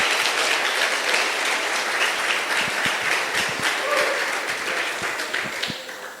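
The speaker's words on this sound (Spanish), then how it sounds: "Aplaude al Rey de Gloria en esta mañana" A church congregation applauds during a morning service, broad sustained clapping from many hands with a few sharper individual claps standing out, gradually tapering off near the end.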